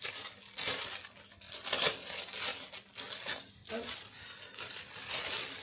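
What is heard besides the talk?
opening the packaging of a SHEIN bathroom décor kit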